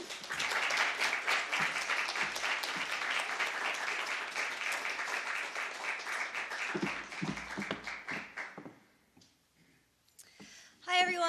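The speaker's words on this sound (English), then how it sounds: "So please give Laura a big round of applause" Audience applause fills a library literary salon for a magazine event, steady dense clapping for about eight seconds before fading into quiet, then a brief renewed burst at the end.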